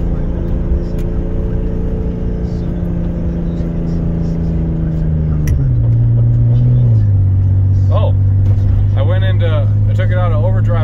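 A turbocharged BMW 535i drives with a steady engine drone, then shifts down in pitch partway through as it changes gear, with rising whirring tones near the end; a person talks over the engine.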